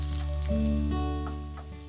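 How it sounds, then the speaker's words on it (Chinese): Ginger and scallion crackle and sizzle as they stir-fry in hot peanut oil, heard beneath a steady tonal hum. "加入适量的花生油，放入姜丝、大葱，一起爆炒一下"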